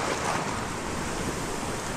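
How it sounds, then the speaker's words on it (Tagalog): Loud, steady roar of ocean surf breaking on a Palawan shore during ultralight casting, a dense wash of waves mixed with wind buffeting the microphone, with no talk over it. "Grabe ka ingay ng alon."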